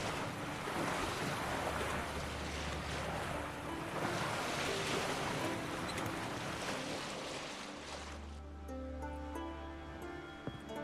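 Sea waves washing against a sailing boat in The Witcher 3: Wild Hunt, a steady rushing surf with wind noise that swells and fades in broad surges, fairly faint, later joined by soft tonal game sounds, no talking.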